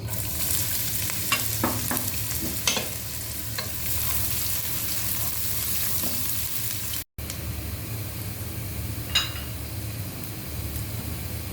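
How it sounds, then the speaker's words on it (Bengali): Chopped onion sizzles in hot oil in a pan, a steady loud hiss broken by a few scraping stirs of a spatula, with no talk. "তেল গরম হয়ে গেলে আমি এখানে পেঁয়াজ কুচি দিয়ে দিচ্ছি"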